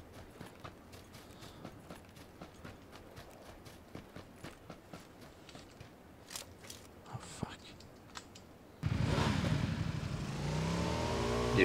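A motorbike in a video game: light rhythmic taps and clicks are followed by a sudden loud, steady engine roar that builds toward the end.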